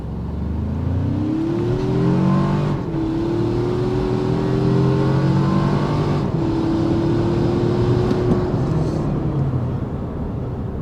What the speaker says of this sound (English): I'm going to put it in its sport mode here and just do a little quick 0 to 60.